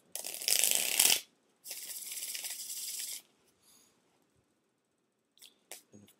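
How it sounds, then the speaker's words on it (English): Tarot cards shuffled by hand in two bursts of dense riffling and sliding, the first louder and rougher, the second steadier, followed by a few soft taps and card handling sounds, with no talking. "All right, let's give them a shuffle."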